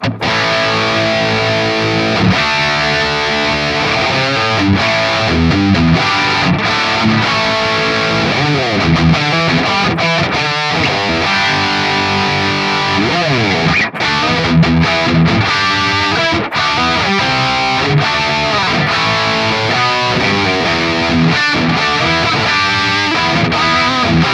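An electric guitar plays a continuous run of riffs and notes through an amp with a dry tone and mild grit, loud and steady with no voices.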